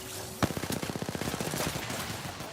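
Rapid automatic gunfire in the video game Apex Legends, a fast even burst of sharp shots lasting about two seconds after a single opening crack, loud and close with no talk over it.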